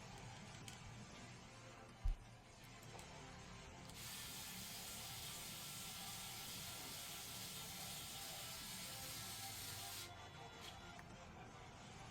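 A Kaiweets ES21 electric precision screwdriver, set to torque level 3, drives a screw in a steady whirring run of about six seconds after a brief click, then stops, fairly faint with no talk.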